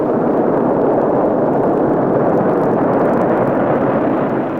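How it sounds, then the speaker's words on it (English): Russia's Luna 1 rocket lifting off the launch pad, a loud, continuous broadband roar that holds steady throughout with no voices. "Russia's Luna 1, in a gallant display of fireworks, just manages to make it off the launch pad bound for the moon."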